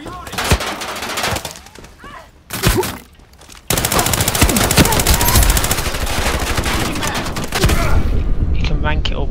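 P90 submachine gun fire in the online shooter Ironsight, with loud rapid automatic bursts broken by short pauses, then a long sustained stream of fire that carries to the end.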